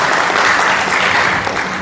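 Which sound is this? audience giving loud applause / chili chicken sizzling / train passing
audience giving loud applause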